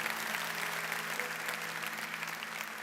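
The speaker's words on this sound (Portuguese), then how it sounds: "Um forte aplauso para o Sandro, para a família Fidalgo." An audience at a motivational talk in Portugal applauds steadily. The clapping stays fairly quiet and distant, with a faint hum underneath.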